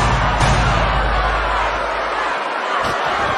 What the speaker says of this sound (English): The crowd is fired up for this fight.